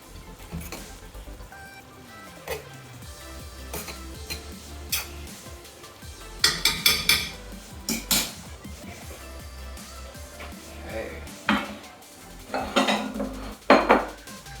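A metal fork scrapes and taps against a pot while fluffing freshly cooked rice, giving irregular close clinks and rustling scrapes with a few louder knocks; no speech.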